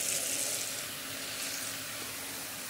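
Tap water pours steadily into a basin while vegetables and fruit are washed, a bright, hissing splash held at an even level from start to finish, with no talking.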